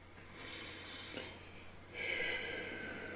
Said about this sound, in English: breathe in as you trace up and out as you breathe down